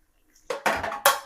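A metal cooking pot of sardine curry is shaken on the stove in three quick bursts, loud clattering rattles of the vessel after a brief quiet start.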